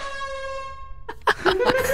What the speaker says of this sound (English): Can you like use the air horn?